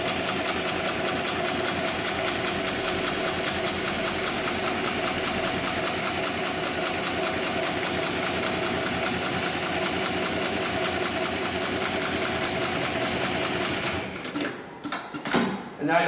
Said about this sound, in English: I'll push the pedal on the left-hand side, and that'll initiate the sewing sequence.